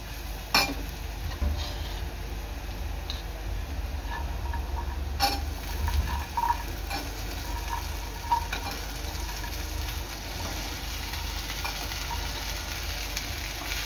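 Okra is stirred and mixed with onions in a pan, giving a steady close sizzle with occasional soft scrapes and clicks of a utensil against the pan.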